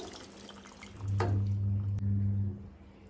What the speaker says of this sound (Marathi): थोडे हांव तातून उदक घालता.